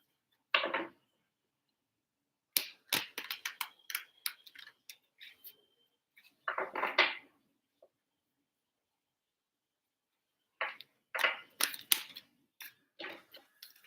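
Tarot cards being shuffled by hand, short bursts of crisp riffling and flicking separated by stretches of silence, close and fairly quiet.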